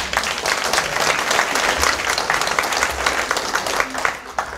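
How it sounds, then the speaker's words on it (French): Audience applause fills a conference hall, steady dense clapping from many people sustained throughout, loud and close, tapering slightly at the end. "Et donc, cher Johan, sois remercié et même applaudi parce que tu le mérites vraiment."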